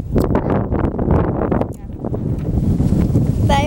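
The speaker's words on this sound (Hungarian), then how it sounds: "De jó, fúj a szél," Strong wind buffets the microphone outdoors on a beach, a loud, gusty roar rising and falling throughout as a person talks over it at the start.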